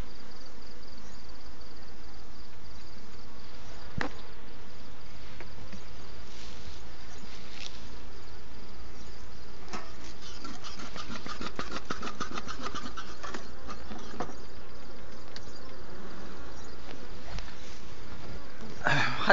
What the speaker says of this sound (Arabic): طبعا دي سلالة نحل هي هادية شوية